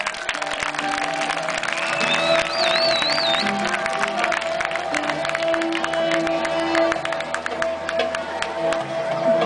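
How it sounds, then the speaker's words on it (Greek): A concert audience at the opening of a Cretan and Naxian music show applauds and cheers the orchestra, a loud, continuous mix of clapping, crowd noise and whoops with a whistle rising briefly over it. "Ένα μεγάλο χειροκρότημα για την ορχήστρα μας."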